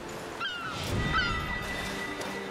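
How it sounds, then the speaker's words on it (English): Black-headed gulls in the video game A Plague Tale: Requiem give a few faint, squawking calls over a soft, steady ambient hiss. "Black-headed gull."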